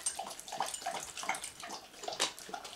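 Water splashing and trickling as it is poured from a bottle into a dog's drinking bowl, faint and close, in short uneven bursts.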